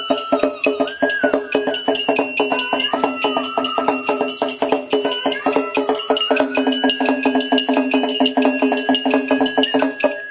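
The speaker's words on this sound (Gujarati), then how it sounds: "હવે સાથે સાથે આપણે ઝાલર મશીનનો અવાજ સાંભળે." A jhalar machine, an electric temple bell ringer with adjustable speed, strikes bells in rapid, even repetition, a bright, metallic clanging that continues steadily from start to finish with no talking.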